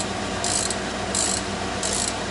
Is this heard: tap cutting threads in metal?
yes